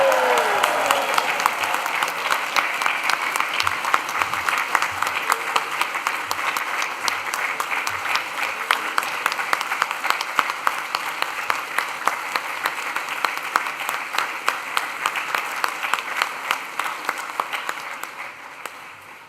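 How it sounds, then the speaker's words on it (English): A graduation ceremony crowd erupts in long, sustained applause with scattered cheering at the start, the thick clapping holding steady before slowly tapering off. "let's raise the roost with a big cheer and round of applause"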